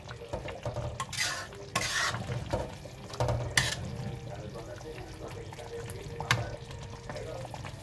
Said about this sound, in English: Just open and stir and make sure you just keep stirring.